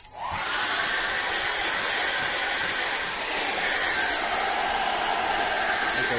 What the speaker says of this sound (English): I'm going to get a hairdryer and dry that up very quickly.